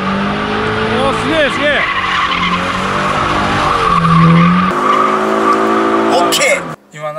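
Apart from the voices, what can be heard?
Toyota 86/BRZ drifting with tire squeal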